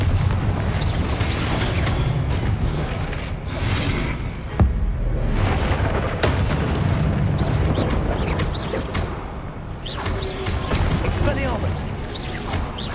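Confringo blasting spell in Hogwarts Legacy set off repeatedly: heavy booms and crashing blasts with whooshing bursts recur throughout amid dense battle din, with a voice speaking over the fighting.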